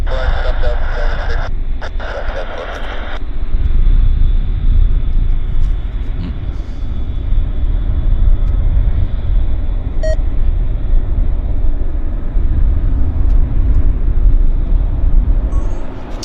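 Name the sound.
aircraft taxiing at Vancouver airport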